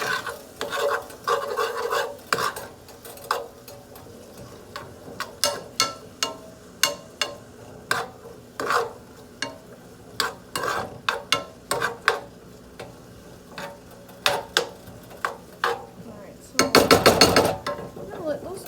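Vegetables sautéing in butter for tomato bisque are stirred around a pan, making rhythmic scraping strokes of a utensil over a faint sizzle, with a louder burst of rasping near the end.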